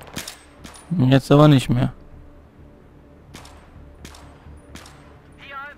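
Gunfire in the video game Battlefield 3: several sharp, separate shots scattered through a quiet stretch, with someone talking briefly over the early part.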